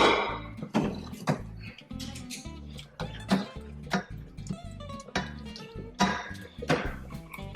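Metal utensil clinking and scraping in a pan of linguine seafood tomato sauce as it is stirred, a steady run of close, irregular knocks and clanks with no talking.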